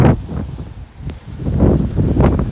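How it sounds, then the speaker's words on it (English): Strong wind buffets the microphone in low rumbling gusts, swelling and easing across the stretch, with faint rustling beneath. "As you can tell, it's very, very windy."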